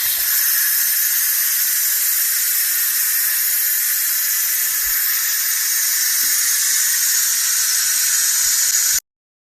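A pressure cooker full of beans vents steam on release, a loud, steady, high hiss that holds evenly for about nine seconds and then cuts off abruptly, with no one talking.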